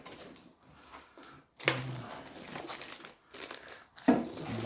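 Packing peanuts rustle and crinkle inside a freshly opened parcel from Green Stuff World, in close, irregular bursts of handling with a few sharper crunches.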